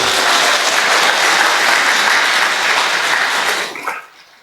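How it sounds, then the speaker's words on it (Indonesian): An audience applauds the Kudus contingent at a gathering, a dense, loud wash of many hands clapping steadily for nearly four seconds before fading out. "Tepuk tangan dulu Kudus."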